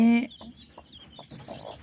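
Broody hen sitting in a poultry house among chicks, giving a loud opening call followed by soft, spaced low clucks close to the microphone with no talk.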